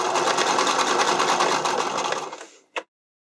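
A sewing machine runs a steady, fast burst of stitching along the elastic channel of an underwire bodysuit, close and loud for about two and a half seconds. It winds down and ends with one sharp click.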